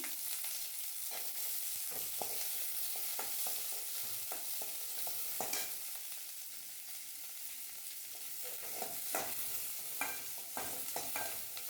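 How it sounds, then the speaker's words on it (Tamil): Small onions sizzle softly in a pan for Kerala-style mango chammanthi, with steady frying hiss and scattered scraping clicks of a spoon stirring, heard alone without talk. "சின்ன வெங்காயம் லைட்டாக வதக்கிங்க"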